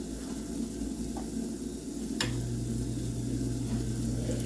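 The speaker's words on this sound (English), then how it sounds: "So my gravy is here, simmering." Gravy simmering in a pan on the stove gives a steady soft sizzle and bubble throughout, with a brief clink partway through and a low hum that continues after it.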